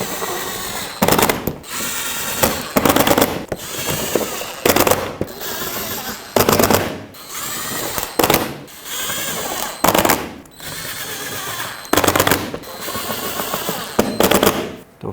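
A power tool drives 7mm screws into the A/C condenser mount of a 2007-2010 Chrysler Sebring, loud close bursts of rattling impact that repeat in a steady rhythm, about ten short runs separated by brief pauses.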